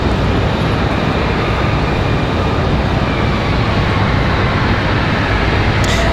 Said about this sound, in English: We're about to have that Delta CRJ pass us here.